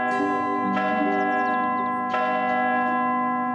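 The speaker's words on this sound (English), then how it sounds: "he needs to ring the church bells at midday tomorrow for the market to start" Church bells ring out in a cartoon village ahead of a midday market, a sustained, loud metallic chime with rich overtones and fresh strikes at about two evenly spaced points, ringing on alone without talk.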